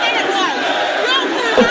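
A studio crowd at a live TV show cheers and whoops loudly and without a break, many voices blending into one near, sustained roar.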